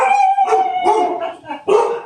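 Several dogs howl and bark together in a long, wavering chorus, with loud sustained howls broken by short yips and barks, close and without talk.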